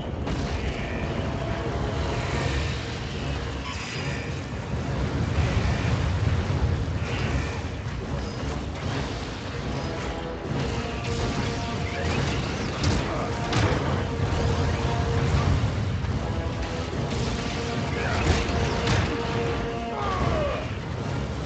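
Bomb blasts in the brawler video game Anarchy Reigns: loud, dense booms and rumbling explosions roll continuously over a busy battle din, with no quiet gaps.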